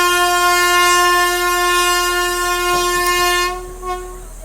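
A long-distance passenger train's horn blares loudly and steadily for several seconds, then cuts off, leaving the rumble of the train passing close by; a Kacheguda (Hyderabad) to Madurai weekly superfast express.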